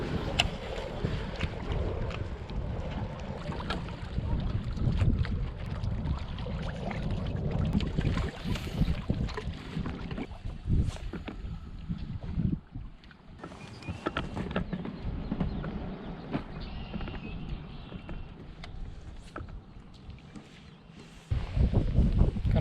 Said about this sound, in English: Got some wind, some chop,